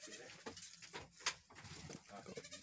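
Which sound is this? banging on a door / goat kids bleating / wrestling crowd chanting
goat kids bleating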